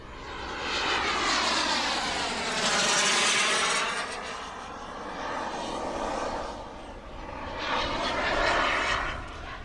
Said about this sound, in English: you should be able to hear the turbine accelerate and decelerate